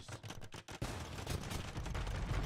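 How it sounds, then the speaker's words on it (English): Bombard cannons fire in a strategy video game battle, a dense, continuous barrage of booming and crackling gunfire that starts sparse and then swells into a sustained loud volley with no talk. "Trying to lure these ranged units into the bombard cannons."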